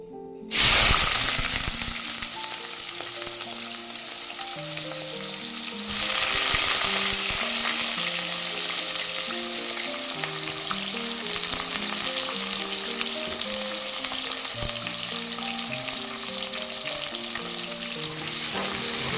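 Two sliced onions drop into hot oil in a pan and start sizzling loudly, a steady frying hiss with the scrape of stirring that carries on throughout.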